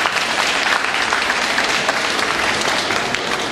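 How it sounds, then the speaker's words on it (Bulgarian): An audience at an award ceremony for a flower exhibition breaks into full, steady applause, dense clapping that holds at an even loudness with no talk over it. "Аплодисменти."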